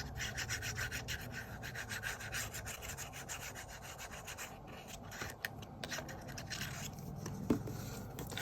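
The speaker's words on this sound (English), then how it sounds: "Again, glue on this, make sure I'm in shot" Glue worked onto a paper envelope flap during card-making produces a steady, close rubbing and scraping that continues through the clip and ends with a small tap.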